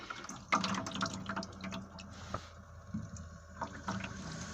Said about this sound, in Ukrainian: пішов набор води.